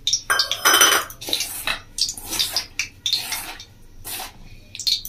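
Bread crumbs worked by hand into mushroom pakora batter in a bowl, heard as irregular wet squelching and scraping bursts close up, with clinks against the bowl.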